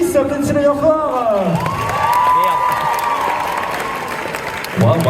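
A lively crowd at a cosplay contest during a Japan convention in Nantes cheers, whoops and applauds loudly as a contestant takes the stage, with shrill voices and whistles rising over the clapping.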